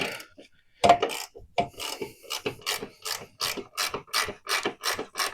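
A hand ratchet loosens a bolt on an engine, giving a steady run of sharp, close clicking strokes that quicken into an even rhythm, heard alone.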